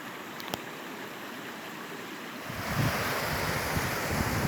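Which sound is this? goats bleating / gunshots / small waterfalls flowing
small waterfalls flowing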